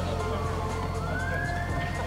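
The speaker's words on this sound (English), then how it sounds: "We have some sirens over the 8th century city" Police sirens wail over a city, a steady wavering tone rising in pitch, heard at a distance over a constant low hum of traffic.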